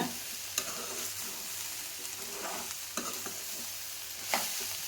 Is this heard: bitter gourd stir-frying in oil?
yes